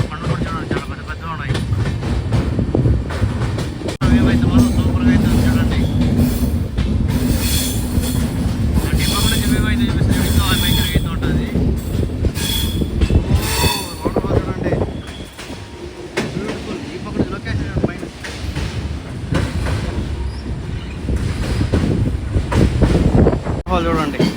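Karwar Express train winding through ghat section curves, wheels squealing and clattering loudly over the track with wind buffeting the microphone and intermittent talk over the rumble.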